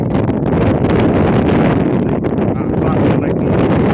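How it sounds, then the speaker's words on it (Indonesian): Strong wind blows across open sea from a fishing boat, a dense, loud, continuous roar and buffeting against the microphone that covers everything throughout. "Dia takut Mister badai, keras angin."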